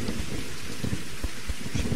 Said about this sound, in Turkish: Bulut yok, yağmur yağıyor